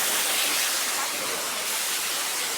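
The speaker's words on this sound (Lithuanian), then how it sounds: "Nu į va, krioklys." Waterfall in Bali roaring close up, a loud, unbroken hiss of rushing water that fills the whole moment.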